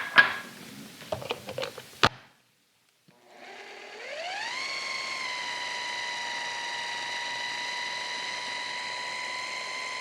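A kitchen blender whirs up to a steady high whine while creaming eggs, butter, vanilla and sucanat for an apple cake batter, preceded by a few clinks and a short pause before the motor ramps up and holds.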